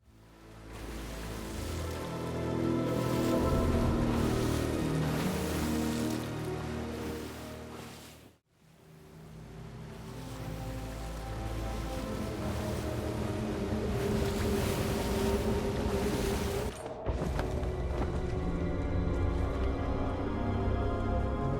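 Ship sailing the open ocean in Sea of Thieves, a steady broad rush of water and wind with creaking and layered tones, loud and continuous, dropping out briefly near the middle before resuming.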